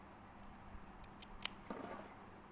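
Scissors snip into a fabric flounce seam allowance, making a few quiet, close, crisp cuts spaced irregularly over a soft background, with no talking.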